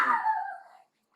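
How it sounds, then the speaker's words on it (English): A small chihuahua gives a single drawn-out whiny bark or yelp, close and fairly loud, fading out, followed by a brief faint noise. "leave the door open for the chihuahua, but now she want to bark at everybody"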